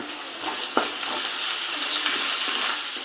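Ginger paste frying in a pan for a chicken fry gives off a steady, hissing sizzle at close range, with one sharp stirring clack and faint scraping, and no one speaking.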